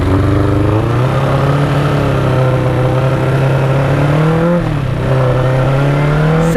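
A loud 1992 Suzuki Katana 750 (GSX750F) motorcycle engine revs and pulls away, pitch climbing then dropping and rising again as it shifts through gears, close and continuous.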